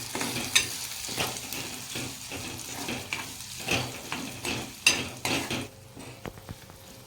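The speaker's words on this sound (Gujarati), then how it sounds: "આપણે હવે ગરમ કરીને હવે આદું પણ નાખીએ અને આદું પણ શેકી લઈએ" Ginger roasts in hot groundnut oil for a mango pickle, giving a soft steady sizzle broken by repeated scraping stirs and small clinks of a spoon against the pan, heard up close without talk.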